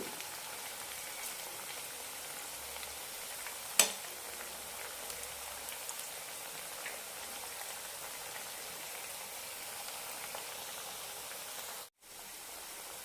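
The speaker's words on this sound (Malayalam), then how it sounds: "ലോ ഫ്ലെയിമിലിട്ടിട്ട് വേണം ഫ്രൈ ചെയ്തെടുക്കാൻ" Cabbage pakoda frying in oil over a low flame, a steady, even fizz and crackle throughout, with one sharp tap early on and a brief dip near the end.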